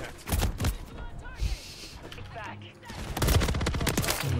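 Gunfire from a RAM-9 (Tavor SAR-style) submachine gun in Call of Duty: Modern Warfare, sounding as two loud bursts of rapid shots, one early and one near the end, with quieter game ambience between them.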